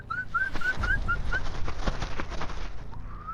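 A person whistles a series of short rising notes in a desert landscape to lure a fox, repeated about seven times over steady outdoor background noise.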